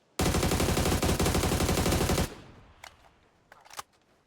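Automatic gunfire in a shooting video game rattles out in one loud, rapid burst lasting about two seconds, stopping abruptly, followed by a few fainter scattered shots.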